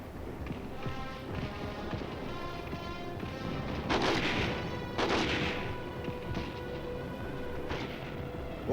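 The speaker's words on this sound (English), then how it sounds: "While tanks and machine gun crews lay down a blanket of fire to keep the enemy pinned down" Korean War combat footage carries distant rumbling gunfire and artillery under a constant noisy field hiss, with a few sharper blasts standing out midway.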